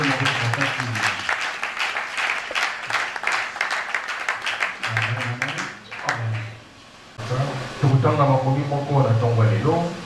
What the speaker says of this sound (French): Et tu acclames encore très fort